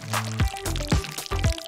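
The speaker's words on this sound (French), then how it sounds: "Je verse du chocolat fondu dans la bouteille." Melted chocolate is poured into a cut plastic bottle, heard as a few close soft glugging splashes with thin plastic crackles in between.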